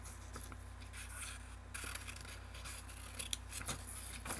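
Scissors cut paper up close, giving a string of quiet snips and scraping rustles at an uneven pace, with no talk.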